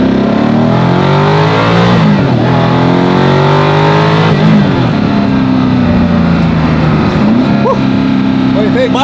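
A 1,400 horsepower hypercar engine accelerating at partial throttle, roughly 35 to 40 percent, a loud sustained rising drone with harmonic sweeps that dip and climb again, with talk mixed in throughout.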